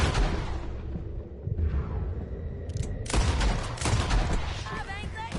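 In Red Dead Redemption, bursts of gunfire crack and boom in rapid volleys, loud and close, with voices shouting in between.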